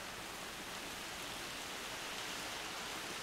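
Steady rainfall in the video game Far Cry 2, with wind blowing, a dense even hiss that holds without a break, fairly quiet and alone with no talk.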